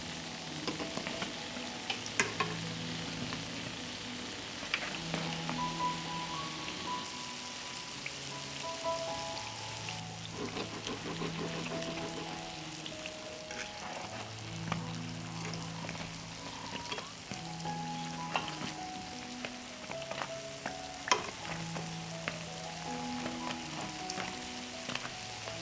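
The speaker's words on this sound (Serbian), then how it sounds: "I pržimo ih 3 do 4 minuta sa obe strane, dok ne dobiju finu brown boju." Uštipci, egg-and-flour dough fritters, frying in oil with a steady soft sizzle and scattered crackles, moderately quiet and continuous, while faint kitchen clatter and tones sound in the background, no speech.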